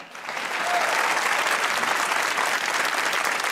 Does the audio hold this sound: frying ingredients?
no